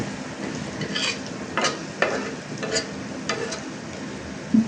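A spoon stirring already-fried pointed gourd in a pan on a gas stove, producing a few soft scraping strokes over a steady low sizzle.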